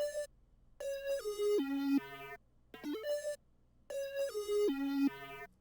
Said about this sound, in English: we have this weird wonky lead that's gonna sound like this